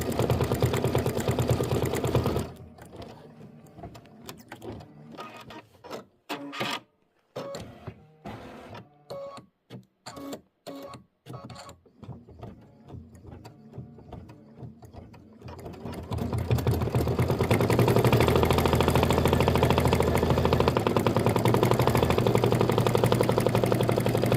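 An embroidery machine stitches yellow thread through glitter vinyl and topping on a lemonade quilt block, a loud steady mechanical whir with rapid needle rhythm, pausing into sparse ticks and clicks midway before resuming at full speed.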